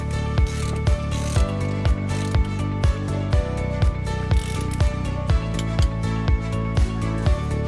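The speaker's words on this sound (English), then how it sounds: "After tightening the fixing screws, use a torque wrench to adjust the torque to 68 N per meter." A torque wrench ratchets steadily while tightening the fixing screws of a wheel bearing behind a brake drum, producing a regular series of close, loud metallic clicks about once every half second.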